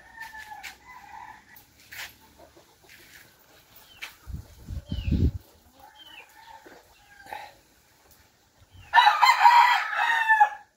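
Chickens and roosters on a farm, with nearby clucking and short calls throughout, some deep low thumps around the middle, and a loud rooster crow near the end, all without talk.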